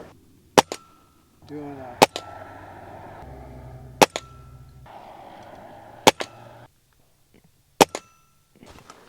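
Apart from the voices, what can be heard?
Ruger Impact Max .22 pellet gun shots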